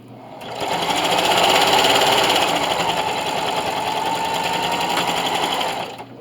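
A sewing machine finishes a seam on a fabric double-mitt hotpad, running as one steady, close, loud burst for about five seconds before stopping.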